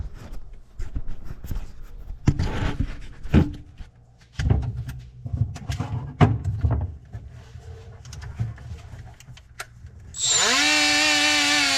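Handling noises and clunks give way near the end to a power grinder starting up and grinding a part, a loud steady whine that holds to the end with no talk.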